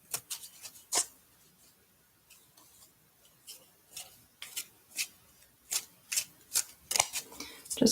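Tarot cards being shuffled by hand, a series of crisp, light riffling clicks and taps in an uneven rhythm, quiet and close, with faint background murmur.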